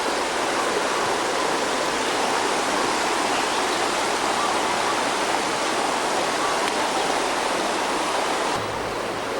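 A Hawaiian river rushes along below a waterfall, a loud, unbroken roar of flowing water close by that shifts slightly in tone near the end, with no voices.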